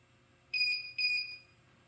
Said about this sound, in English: That is a powerful little piezo speaker.